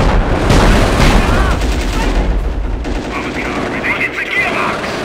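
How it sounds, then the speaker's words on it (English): Dense machine-gun and rifle fire with booming blasts in the WWII strategy game Company of Heroes, Europe at War mod, battle at Oosterbeek, loud and continuous at first, then thinning under game voices and radio chatter. "Enemy fire taking its toll."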